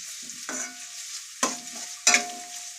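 Onions sautéing in a pan give a steady sizzle, broken by three distinct stirring scrapes, each close and brief, with no talking.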